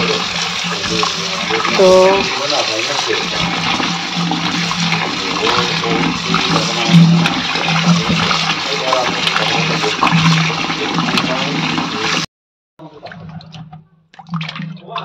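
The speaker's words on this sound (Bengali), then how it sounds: "এবার আলুগুলোকে ভালো করে কচলে কচলে ধুয়ে নেবো" Taro potatoes being rubbed and washed in water, a steady loud rushing and churning of water that runs on, then cuts off abruptly, leaving a few soft knocks and a brief spoken word.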